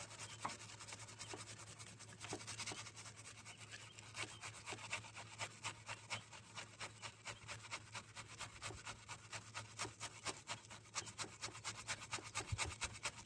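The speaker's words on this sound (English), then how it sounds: "The scraping when I get across the brake dust." Brake dust is scraped off a wheel in quick, rhythmic rasping strokes, repeated steadily and heard faint and close.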